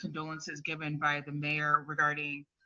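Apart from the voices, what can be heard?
No distinct noise like a dog, phone or traffic.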